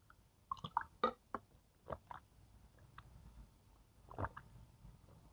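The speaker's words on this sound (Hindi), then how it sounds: "मैं पानी पी लेता हूं।" Someone drinking water up close makes quiet gulps, clicks and wet mouth sounds spaced irregularly in otherwise near silence.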